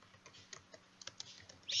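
Light, irregular clicks of fingers typing on a computer keyboard, close and fairly quiet, a quick burst of keystrokes with a brief louder hiss at the end.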